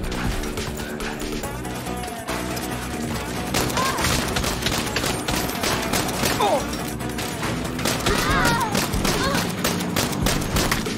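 Rapid gunfire fills a Saints Row (2022) fight scene, dense continuous bursts and crashes over a steady music bed, loud and unbroken throughout.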